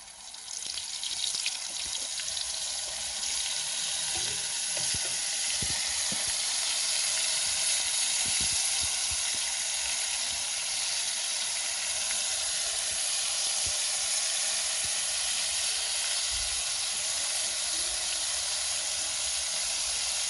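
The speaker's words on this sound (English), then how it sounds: "So I get them fry up now." Shrimp coated in cornstarch and flour deep frying in oil, heard as a loud, steady hissing sizzle that goes on unbroken throughout, with small pops and no voices.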